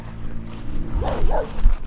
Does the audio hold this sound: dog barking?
yes